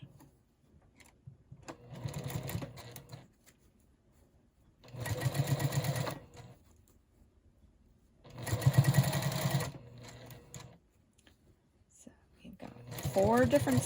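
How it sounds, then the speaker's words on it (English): A sewing machine stitching quilt block seams runs in three or four short bursts of steady whirring, separated by quiet pauses, with a soft voice talking in between. "You've got 3 different seams to line up as you sew these together."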